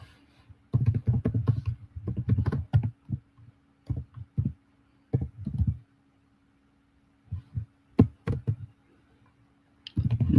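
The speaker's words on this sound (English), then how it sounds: "I'll type all this out so you all have this." Computer keyboard being typed on in a quiet room, sparse bursts of key taps with pauses between, close and fairly clear, no one talking.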